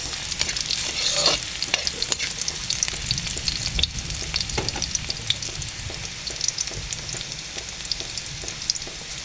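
Garlic sizzles in oil in a pan as it is browned and stirred for a mussel soup, with steady frying crackle and repeated scraping stirs throughout, fairly close, no talk.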